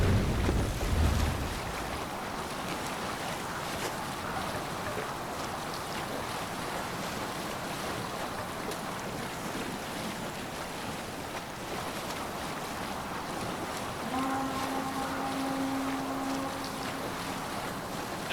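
Viking longship under sail in Assassin's Creed Valhalla, with a steady wash of waves, wind and creaking hull filling the scene, a brief low thump at the start and a sustained tonal hum rising near the end.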